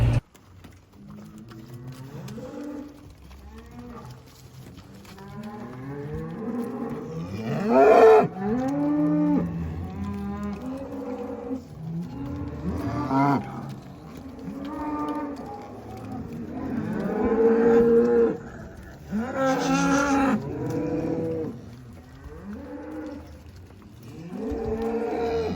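Cattle mooing inside a farm barn during a muck out: repeated loud, drawn-out moos from several animals, overlapping one another almost continuously, with no talking.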